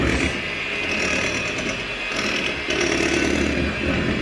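An electric mixer whizzing Yorkshire pudding batter in a bowl, a steady loud close whirring drone that runs the whole time without pause, no voices.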